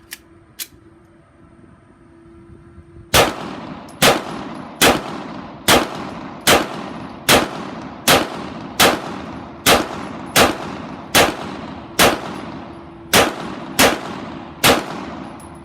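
A Hudson H9 9mm pistol fires Hornady Custom 147 grain XTP rounds: about fifteen sharp, loud shots in a steady rhythm, roughly one every second, each ringing briefly after a quiet lead-in.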